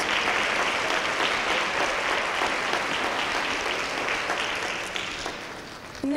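Audience applause at a science and engineering awards ceremony for high school winners, a steady dense wash of many hands clapping that holds for several seconds and thins slightly near the end.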